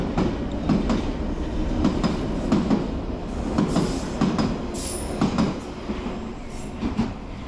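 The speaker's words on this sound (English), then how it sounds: "Let's wait for this train to go." A London Underground Piccadilly line train departs Arnos Grove station at night, rumbling along with rhythmic clickety-clack of wheels over rail joints and occasional high squeals, steady and fairly loud throughout.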